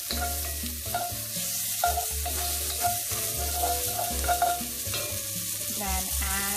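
Shallots frying in a pan for a lamb dish, a constant bright sizzle with occasional stirring knocks, heard over a steady tonal melody in the background.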